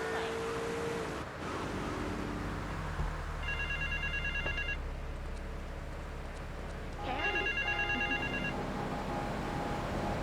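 A payphone rings in GTA 3 in two bursts of bright electronic trills, heard over steady low engine rumble and ambient city noise.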